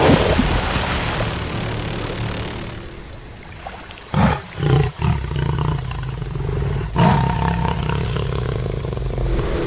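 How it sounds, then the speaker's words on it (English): A jaguar fights in the Amazon wetlands, giving several loud, rough roars and snarls in quick bursts over a rumbling, noisy background, followed by quieter heavy sounds. "The roar mixes with the flash of bones and muzzles."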